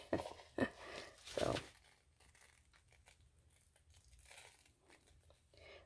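Parchment paper crinkles and rustles as it is handled while folding coffee filter envelopes, with a few loud close crackles early on and then softer intermittent rustling, no talking.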